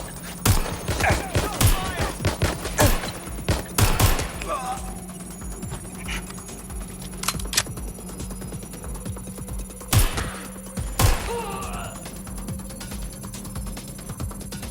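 Gunfire from a firearm in the video game Watch Dogs: Legion, sharp loud bursts scattered irregularly through the scene, with a couple of clusters of shots near the start and later, over a steady low hum and game ambience.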